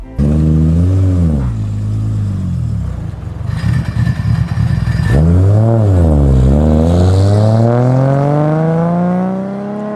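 An inline-six supercar engine cranks and fires up, then revs hard through several rising and falling sweeps, its exhaust loud and close with a brief rough idle between pulls.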